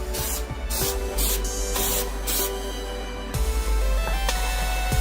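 Spray paint hisses onto a car's shifter piece in several short, loud bursts with brief pauses between them, close to the listener and with no voices.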